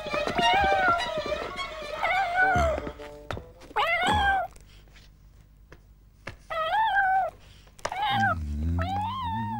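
A large kitten meows repeatedly, several drawn-out wailing meows separated by soft thumps and short pauses, close and clear.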